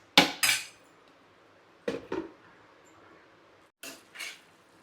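Clanks of a metal lid set onto a pot of tomato and baby potato curry, three separated pairs of sharp metallic knocks spaced a couple of seconds apart, close and fairly loud with quiet between.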